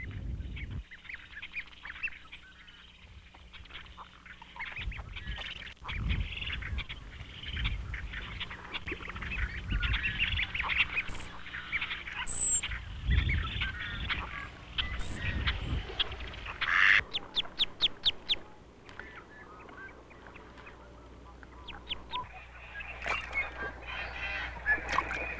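Ducks and geese call across a managed wetland with built nesting islands, honks and quacks coming in scattered bursts near and far over a quiet, open background, with no talking.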